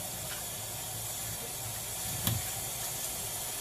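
Collard greens rinsed under a running tap in a sink, a steady close hiss of water flowing throughout with a brief splashier burst near the middle as the leaves are worked by hand.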